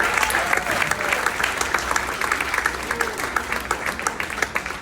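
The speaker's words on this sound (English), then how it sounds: "So how about a big round of applause" An audience at a charity auction and paddle raise in New York gives a big round of applause, sustained dense clapping from a sizable crowd filling the room, with some voices mixed in.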